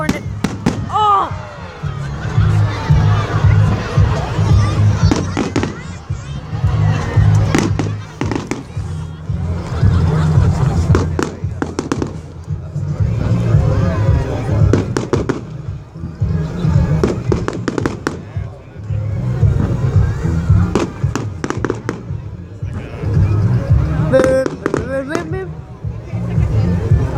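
A New Year fireworks display, a long run of repeated bangs and crackling bursts, some near and sharp, others rumbling, continuing throughout while a crowd chatters and exclaims underneath.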